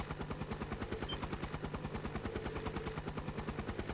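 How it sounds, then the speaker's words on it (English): Rapid, even rotor chop of a helicopter in the video game Trails of Cold Steel IV, a loud, close thudding pulse repeating about eight times a second over a low engine hum for four seconds. "It's a helicopter."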